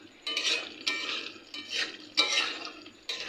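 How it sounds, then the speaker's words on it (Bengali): Meat stirred in a pot on the stove at night, heard as a series of scraping, clattering strokes of a utensil against the pot with a soft sizzle, close and fairly loud with short pauses between strokes. "আমি এখন রাত্রেবেলা মাংস রান্না করছি।"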